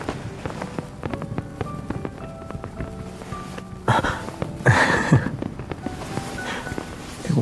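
Fireworks in the Love and Deepspace video game: a few sharp, bright bursts crackle in the middle, rising above a steady, busy ambient bed, with quieter pops and rustle before and after.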